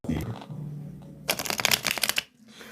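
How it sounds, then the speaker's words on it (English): A deck of tarot-style cards is shuffled close by for a collective reading, a burst of rapid riffling clicks after a quieter rustle, then a brief settle. "2 more shuffles."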